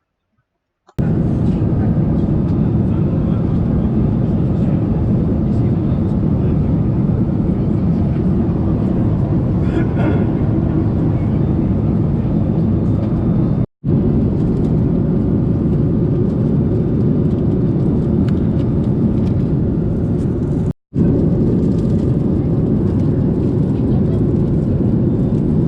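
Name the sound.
airplane cabin noise during flight to Cuba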